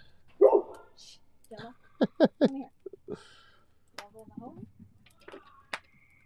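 A dog named Gemma barking at the neighbors, several sharp barks in a quick cluster with a few scattered yips, sounding close against a quiet backyard.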